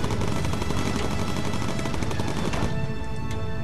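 Rapid, continuous machine gun fire from a bomber in the game Bomber Crew, dense and loud with a steady rattling rhythm, cutting off near the end and leaving a droning background.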